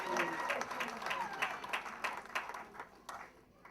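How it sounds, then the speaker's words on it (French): Applause welcoming a preacher at a Bible college graduation ceremony, lively clapping from a crowd with distinct nearby claps, gradually thinning toward the end, faint voices mixed in. "Please put your hands together for the man of God."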